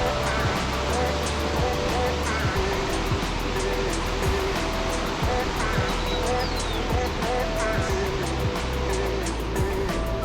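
River water rushes continuously beside a campsite in Lares, Peru, a dense, steady roar of flowing water, close and unbroken throughout with no voices.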